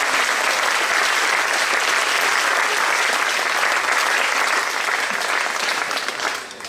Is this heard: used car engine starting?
no